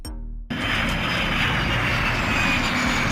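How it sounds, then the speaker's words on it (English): A steady, loud roar of an aircraft engine fills the scene after a brief quieter start, a continuous broadband whine with a faint high tone. "A personal aircraft often used for private or business flights."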